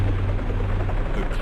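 A helicopter in the survival-horror video game Resident Evil Survivor drones with a low, steady rotor thrum and hum that stays even and fairly loud throughout.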